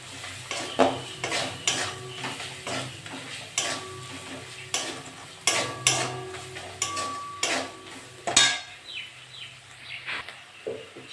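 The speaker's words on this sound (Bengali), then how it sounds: "নেড়ে চেড়ে নেবো" Shrimp curry with pumpkin stems and vegetables being stirred in a pan, repeated metal clinks and scrapes of a spoon against the pan over a low sizzle, close and rhythmic.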